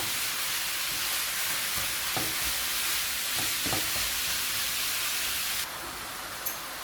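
Minced meat with peppers and onions being stirred in a pan, a steady broadband frying hiss with a few soft scraping strokes, dropping slightly in level near the end.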